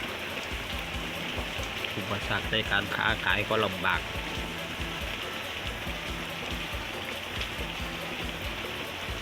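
Heavy tropical rain pours down steadily in southern Thailand, a dense constant wash of drops drumming on surfaces up close, with someone talking over it throughout.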